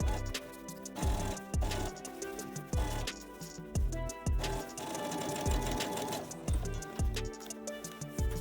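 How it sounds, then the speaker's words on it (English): A sewing machine sews a jeans waist seam, its needle thumping in a steady, regular rhythm over a continuous motor hum, close and clear with no talking. "Then continue sewing until you get to where the old seam is still attached."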